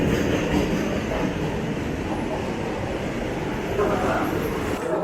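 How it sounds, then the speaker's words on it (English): A freight train heading south rolls past a station platform, a steady loud rumble of wheels and cars sustained throughout, with faint clatter and murmuring voices in the background. "Freighter heading towards the south."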